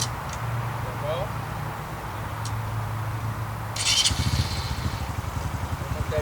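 Honda CRF 125 motorcycle from 2026 running at a steady low idle-like drone, then picking up a rougher, louder engine pulse near the end, with faint voices in the background.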